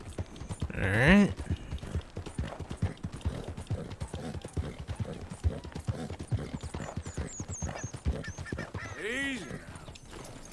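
A horse's hooves clip-clop steadily in Red Dead Redemption 2, the rhythmic footfalls running through the whole stretch at moderate loudness, with occasional game sounds and a brief snort-like burst near the start and end.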